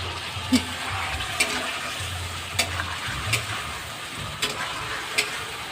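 Water is poured into a pan of stirred potatoes for a home-style fish curry, giving a steady hissing, bubbling wash of sound broken by occasional soft clicks and knocks.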